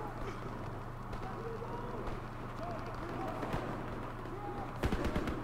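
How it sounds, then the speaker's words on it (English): Distant gunfire and explosive bangs in the Call of Duty WWII video game, scattered faint shots with a sharper loud burst near the end, over a low steady hum, with voices talking intermittently. "Oh, more fucking fireworks going off."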